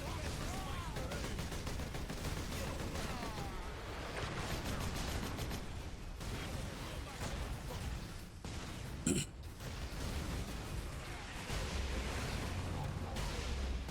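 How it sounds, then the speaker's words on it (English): A lascannon fires during a fight against orks in the Warhammer 40,000: Space Marine video game, heavy blasts repeating through a dense, continuous wall of loud battle noise. "Using the las cannon here"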